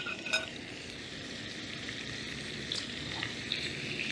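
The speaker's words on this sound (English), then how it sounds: "How nice this frying pan's working." Continuous crackling sizzle of food frying in a titanium pan on a Primus Omnilite Ti camping stove, close and steady, with a few faint metallic clinks scattered through.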